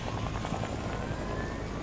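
Video game helicopter: a steady rotor chop with a continuous whining engine tone that rises slightly, held at moderate loudness with no talking.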